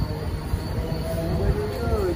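A MEMU train pulls away at Bhadrak on the run toward Cuttack and Puri, a loud close rumble with rising wheel squeal and a faint high hiss of insects.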